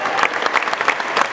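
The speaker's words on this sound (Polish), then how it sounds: "Gorące brawa dla was!" Warm applause for the boys' players at the Decoria Cup 2016 three-a-side mini volleyball tournament, a dense steady patter of many hands filling the hall, short and fairly loud.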